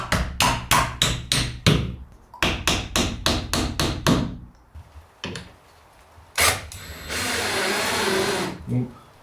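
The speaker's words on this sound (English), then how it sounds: "putting in shims and screwing right through the window frame" Screwing through a wooden window frame while installing a cabin window with shims, a cabin being built on a trailer: two bursts of rapid, evenly spaced loud driver or hammer-like impacts, then a steady whirring power-tool run near the end.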